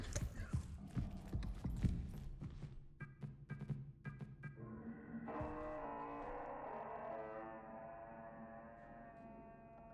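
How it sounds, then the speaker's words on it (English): A computer operating system boots up in the video game Routine, giving off a low, burping, donkey-like electronic tone that swells and holds steadily, after a stretch of clattering knocks and brief beeps. "the boot up sound for the OS sounds like a donkey burping or something"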